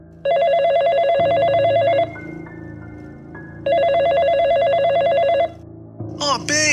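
A telephone rings twice in an office with a storm brewing outside, each long trilling electronic ring loud and close, followed by a brief pickup sound.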